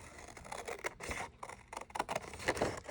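Scissors snipping through paper for a Valentine mini card journal, a quick run of soft close crisp cuts, quiet and alone.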